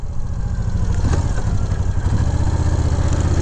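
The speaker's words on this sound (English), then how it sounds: "When you hit the throttle, it's got a super nice rumble in the engine." A 2000 Moto Guzzi Jackal motorcycle engine rumbles steadily and loudly up close, a dense low throbbing idle with mechanical clatter running throughout, with no voices over it.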